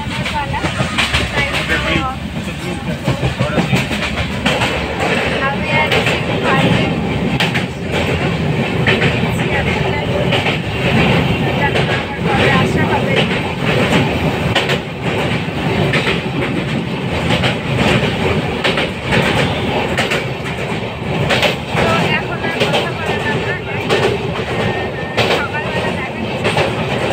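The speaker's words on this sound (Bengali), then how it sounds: "আমাদের ট্রেন চলে এসেছে কিষানগঞ্জ" A passenger train arriving at Kishanganj rolls along the rails with loud, continuous rumbling and rhythmic clattering of wheels over joints, heard from on board and close, throughout.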